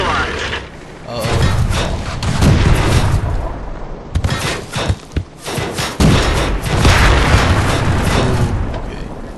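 Tank cannons and vehicle mechanisms in the World of Tanks video game rumble and boom through a busy stretch, several heavy blasts and clanking mechanical noise, loud and close with a voice talking at times.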